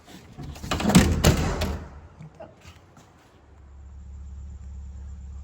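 A vintage MCI 5 bus's doors, with a freshly welded latch, bang shut in a couple of close, loud thuds and rattles, followed by a low idling engine rumble.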